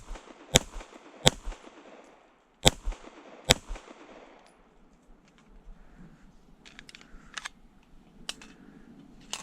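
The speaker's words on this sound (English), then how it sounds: "You can tell when you hit the hollow points. The gun's definitely more snappy." Four sharp, loud pistol shots from a CZ Shadow 2 Compact firing hollow point rounds, spaced unevenly over about three seconds, followed by quieter handling noise and a few fainter clicks.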